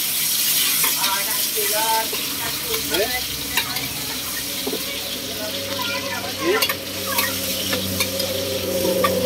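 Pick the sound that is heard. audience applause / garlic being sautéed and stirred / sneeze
garlic being sautéed and stirred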